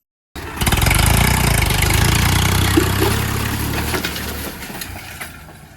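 A Swaraj 733 FE tractor, a 35 HP machine, runs with a loud, steady diesel engine rumble that holds throughout, with a faint rattling texture on top.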